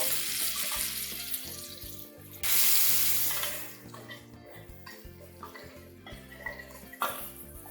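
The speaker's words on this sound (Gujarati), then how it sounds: "તેલ ગરમ થાય એટલે આપણે જે તૈયાર કરેલો મસાલો છે એમાં એડ કરીએ છીએ" Prepared mini samosa masala hitting a spoonful of hot oil, a loud broad sizzle that swells suddenly and then settles into a softer steady fry with light clinks of a spoon, close up.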